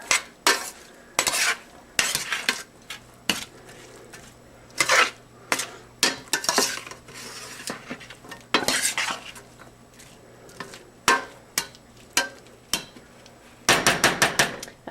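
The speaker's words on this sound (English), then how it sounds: "I'm going to stir this around." A spoon repeatedly scrapes and clanks against a pot while onions are stirred over medium heat for spaghetti sauce, in irregular sharp strokes with brief pauses and a rapid flurry near the end, under a faint sizzle.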